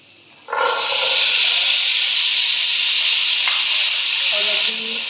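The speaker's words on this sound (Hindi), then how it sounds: "चनों को थोड़ा सा भून लूँगी 2 मिनट के लिए, ताकि मसाले अच्छे से मिक्स हो जाएं।" Black chickpeas hitting hot spiced oil in a pan for roasting, a sudden loud, steady sizzling hiss that starts abruptly and carries on strongly, with a few light clinks near the end.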